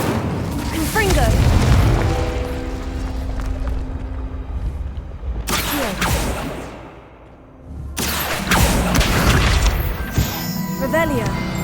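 Confringo spell explosion in the Hogwarts Legacy video game, a loud booming blast over game sounds with rumble and crashing debris, a second burst following, while a voice calls out spells.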